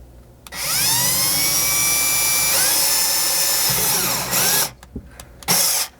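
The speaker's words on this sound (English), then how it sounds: "then I'm going to continue to drill and apply a little bit of pressure down in here as well" Cordless power drill with a 5/32 bit boring through a plastic panel on a 3rd-generation Toyota 4Runner's rear window. The motor whines steadily and loudly, dips in pitch under load, then stops in short bursts near the end.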